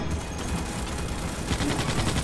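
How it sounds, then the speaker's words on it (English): Random explosions and gunfire in the video game Starship Troopers: Extermination, a dense continuous crackle of distant shots and blasts with no clear individual bursts, steady and fairly loud throughout. "Random explosions."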